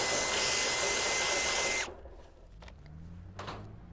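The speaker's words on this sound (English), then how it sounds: "just with a drill, with a 3mm drill bit, just re-drill out that hole just to give you a bit of clearance." A cordless drill fitted with a 3mm bit re-drills a hinge hole on a metal bike shed, whining steadily for almost two seconds before cutting off, leaving faint clicks and handling sounds.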